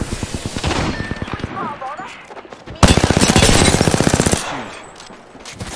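Rapid automatic gunfire rattles loudly in a shooter video game, with one burst early on and a longer, heavier volley in the middle, while game voice lines and a person's talk sound around the shots.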